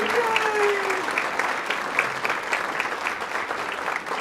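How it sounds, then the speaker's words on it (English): Audience applause at a Canine Companions graduation ceremony for the puppy raisers, steady dense clapping from a crowd that holds at an even level throughout, with a faint voice briefly audible beneath. "let's give another round of applause for our amazing puppy raisers and all of the work that they do"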